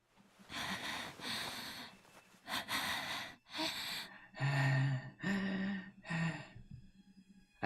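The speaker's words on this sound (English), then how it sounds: "I heard panting in my ear." Heavy, rhythmic panting from a character in the Chaos;Child visual novel game, a run of close, breathy gasps and exhales in quick bursts, heard alone.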